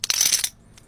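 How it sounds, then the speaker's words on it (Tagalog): A single coin drops and rings briefly on a hard surface, a bright metallic clatter that fades quickly, followed by a faint tiny tick. "Coin."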